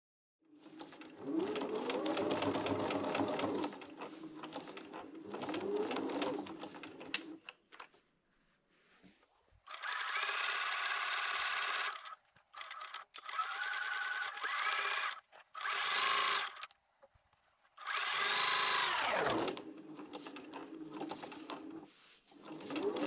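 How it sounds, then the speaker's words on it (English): Sewing machine stitching fabric for a cushion cover, running in several bursts of steady mechanical whirring with short pauses between, including back stitching and reverse stitching where two fabrics overlap; loud and close with no talk. "back stitching at the beginning and end, and also reverse stitching where the two fabrics overlap"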